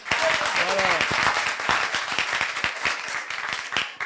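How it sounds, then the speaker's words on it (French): A church congregation claps loudly and steadily at a Wednesday Methodist worship service, a dense wash of applause with a brief voice call near the start. "on l'acclame très fort."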